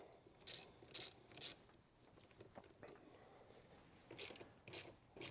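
Negative terminal clamp on a Ford F150 battery being tightened with a ratchet, six short bursts of clicking in two groups of three, close and fairly loud over quiet background.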